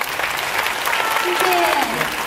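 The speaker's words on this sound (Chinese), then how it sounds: "掌声，谢谢欧开合唱团" An audience applauds a choir at a concert hall, steady clapping across the whole moment, with a singing voice or tones faintly carrying over the top.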